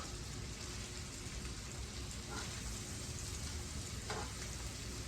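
Peeled, butterflied shrimp fry in melted butter in a pan with a constant close hiss and sizzle, broken by a couple of faint clicks.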